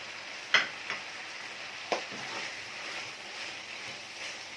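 Garlic and pepper tossed into a buttery pan with offal pieces, a faint steady sizzle under a few sharp spoon knocks and scrapes near the start, quiet and close with no voices.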